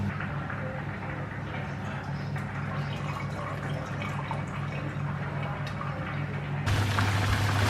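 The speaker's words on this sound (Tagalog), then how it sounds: "Kailangan ko lang i-drain yung liquid kasi tingnan niyo oh. Sobrang daming liquid." Liquid from browned mince for Filipino spaghetti is drained in a kitchen, giving a steady close trickle and splash over a low hum, which swells louder and fuller near the end.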